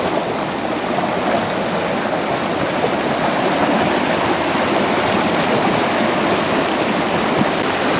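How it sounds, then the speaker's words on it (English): A river stream rushes steadily through New Zealand bush, a loud, close, continuous wash of water with no voices. "Well, we made it to the river."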